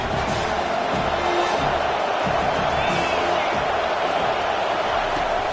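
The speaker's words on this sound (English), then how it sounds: "Listen to the crowd energy here in the early going" Loud, steady stadium crowd roar at a college football game between UF and USC, a dense wash of cheering that holds evenly throughout without a break.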